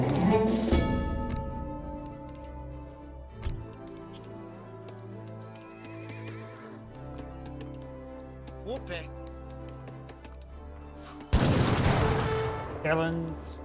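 Musket volleys crack in an Age of Empires 3 match between Swedish and Hasua armies, a cluster of sharp shots over in-game music and clinking, with a louder burst of fire near the end.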